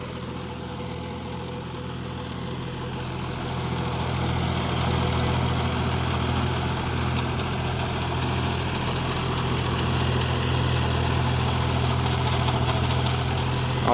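A John Deere 5050D GearPro 4WD tractor drives a 72-blade Leo rotavator while preparing a seedbed, its diesel engine giving a steady, loud, low hum that swells slightly after the opening seconds and holds without a break.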